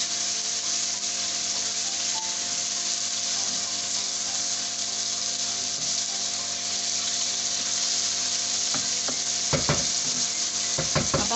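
Chicken karahi sizzling and frying steadily in a pan, a continuous crackling hiss with a few clanking stirs near the end, no talk.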